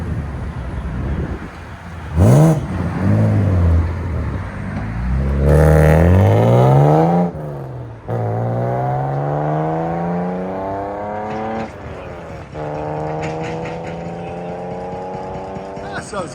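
1999 BMW M3 with a 3.2L inline-six, no catalytic converters and a Sebring Tuning muffler, revved hard several times in loud, close bursts that climb sharply and fall back, with a rasping exhaust note between pulls.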